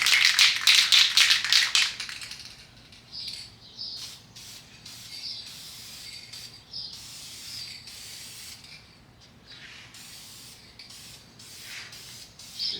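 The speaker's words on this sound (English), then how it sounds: "So the next step is to put the plastic adhesive on." A light coat of plastic adhesion promoter is sprayed from an aerosol can onto a plastic S-curve part, giving a loud hissing burst at the start followed by shorter, fainter intermittent sprays, with no talking.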